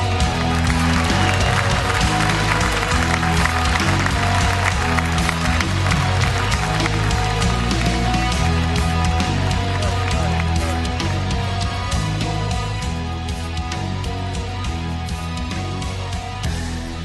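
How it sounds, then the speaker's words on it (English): A large crowd at the IEM Cologne esports event applauds and cheers Team Fnatic on stage, a dense, loud, sustained roar of clapping mixed with music and hall noise. "Give them a big round of applause."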